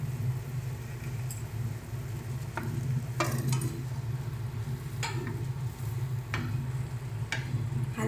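Pre-fried prawns go into a simmering gravy and are stirred, giving a steady low bubbling and sizzle with several sharp clinks of a spoon against the pan, close by and with no talk.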